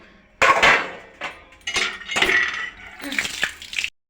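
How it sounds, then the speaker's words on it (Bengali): Dirty plates being scrubbed and handled up close, with clattering dishes and bursts of scraping and rubbing in several uneven bouts. "থালাগুলো মাজা হয়নি মাজতে হবে"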